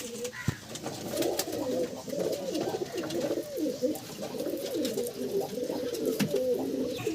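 A male pigeon of Saudi collection stock coos steadily in soft, throaty, rolling phrases over a hissy, noisy loft background, with a few faint clicks and knocks.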